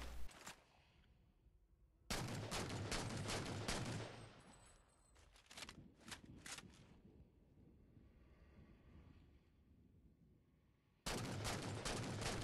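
Rapid bursts of DMR rifle fire in Halo 4, loud and close, with two sustained strings of shots separated by quieter rattling and a lull, no voices.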